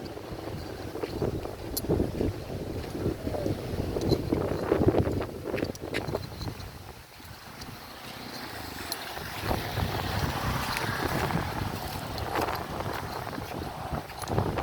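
Gusty wind roars against the microphone near open water, rising and falling, with occasional knocks and a low rumbling drone.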